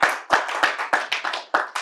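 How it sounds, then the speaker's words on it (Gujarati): An audience at a lecture gathering claps to honour two speakers: loud, close, evenly spaced hand claps in a steady rhythm, about seven beats, with no voices over them. "ખૂબ તાળીથી બંને વક્તાઓનું અભિવાદન કરીએ"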